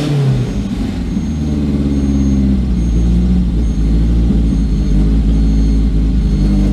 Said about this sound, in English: Couple of revs.